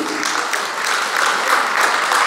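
Audience applause at a folk dance celebration, a steady dense clapping that fills the room evenly and continues without a break.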